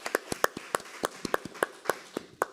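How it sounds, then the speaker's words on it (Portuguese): A few people clap at a seminar on elections and artificial intelligence, a sparse, uneven run of sharp, separate hand claps rather than full applause, close and fairly quiet. "Uma salva de palmas."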